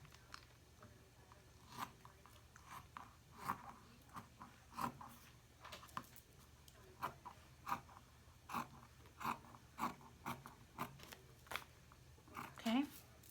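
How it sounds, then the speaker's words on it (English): Steady run of crisp cutting snips through the end of a no-sew Christmas stocking, about a dozen evenly paced cuts close by, with quiet talk in between. "I'm going to turn this around, and I'm going to cut this end right here."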